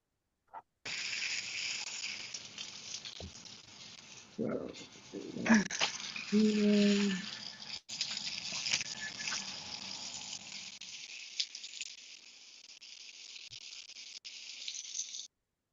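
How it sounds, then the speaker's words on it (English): A rain sound effect plays during an online opening ceremony, a steady broadband hiss running for most of the clip with a brief voice and some clicks partway through, then cutting off near the end. "not sure if that rain sound was on purpose"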